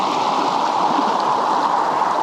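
Steady broadband rush of a creek flowing beneath a footbridge on the Sperry Trail near Lake McDonald, a continuous close wash of moving water with no voices.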